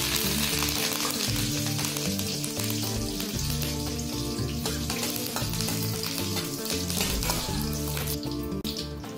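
Curry leaves and fenugreek seeds fry in hot oil for a fish gravy, giving a loud, steady, crackling sizzle that continues throughout without speech.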